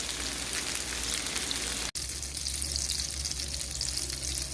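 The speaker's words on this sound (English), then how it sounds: "The next step is to saute them in a skillet in the olive oil that I put aside earlier for about 2 to 3 minutes per side" Sweet potato gnocchi sauteing in olive oil in a skillet give a loud, continuous sizzle and crackle, cut by a brief silent gap midway, with no voices.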